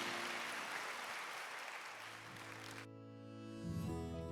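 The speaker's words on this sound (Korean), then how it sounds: "박수로 축복해 주시기 바랍니다" Church congregation applauding during a Sunday service at Good Shepherd Church: dense, steady clapping fills the first few seconds and then gives way to sustained organ or keyboard tones with a faint low hum.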